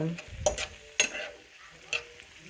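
Seafood for a creamy alfredo pasta cooks in a pan, a quiet sizzle broken by a few sharp scraping stirs of a utensil against the pan.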